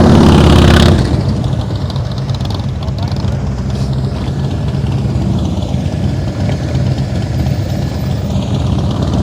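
A motorcycle engine runs at low revs during slow-speed riding practice, with a steady near idle-like rumble throughout and a brief throttle drop at the start. Talk sounds faintly in the background.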